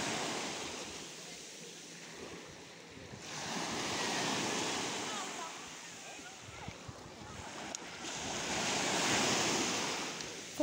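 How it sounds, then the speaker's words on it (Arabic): Ocean surf rolls onto a beach in steady swells, a broad wash of waves rising and falling with wind noise buffeting the microphone, no talking heard. "سمعوا الامواج ما شاء الله"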